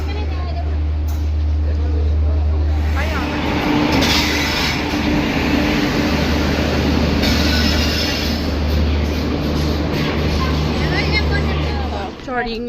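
A train rolls into a station platform with a steady low rumble, faint metallic wheel squeal and a loud, continuous hum; voices murmur in the background.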